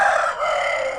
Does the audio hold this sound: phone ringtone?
no